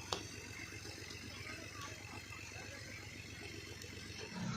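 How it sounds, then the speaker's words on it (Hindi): A tractor engine runs at a steady idle, a moderately faint, rhythmic low chug with a few brief clicks on top and a short louder surge at the end. "सारा दिन तो आज आपको ट्रैक्टर की आवाज़ ही सुनने को मिली है"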